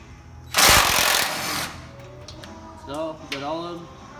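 Impact wrench fastening nuts on rock sliders for a Jeep Wrangler JKU, one loud burst of hammering rattle lasting about a second, followed by quieter tool noises and talk.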